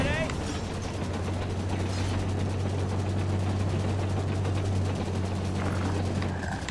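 Continuous gunfire and heavy vehicle rumble from a Halo 5 battle, with a steady low engine drone underneath dense, rattling shots throughout, loud and close, mixed with game sounds.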